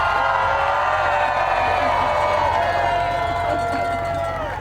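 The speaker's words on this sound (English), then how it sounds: "Give them a Minnesota level round of applause." Audience at a political rally cheering and whooping, a continuous crowd roar with shouts rising over it, fading slightly toward the end.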